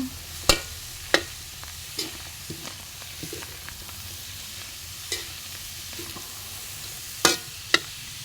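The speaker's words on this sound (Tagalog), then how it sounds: "Halu-haluin natin." Goat bopis with carrots and radish frying in a pan while being stirred, with a low steady sizzle broken by sharp scrapes and clinks of the utensil, two louder strikes near the start and two near the end.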